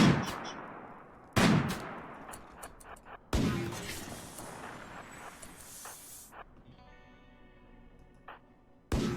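RimWorld gunfire: a handful of loud, sharp shots spaced a second or two apart, each with a short crack and decay, plus a trailing mechanical whine and a final shot, with no talking.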